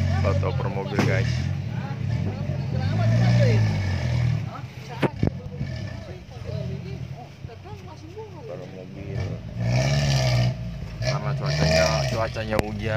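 Cars and trucks rumble and idle at a rice market's vehicle transfer yard in Tanah Merah, Karawang, on a wet, rainy day. Steady low engine noise runs under continuous nearby talking.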